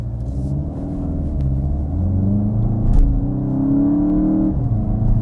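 A Volkswagen Golf GTI 40th Anniversary Edition's four-cylinder engine rumbles deep and loud from inside the car, its tone rising and falling as it revs and pulls, with a steady bassy drone throughout.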